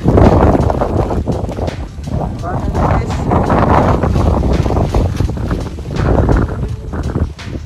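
Strong, gusty wind on Mount Merbabu in thick fog roars and buffets the microphone continuously, with rumbling low-end bursts throughout.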